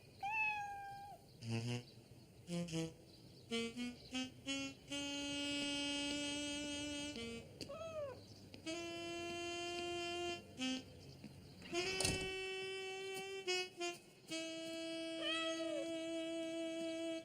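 A cartoon cat meows repeatedly, a string of clear, close, drawn-out cries with short pauses between them, some long and steady and others bending in pitch, with no talk around them.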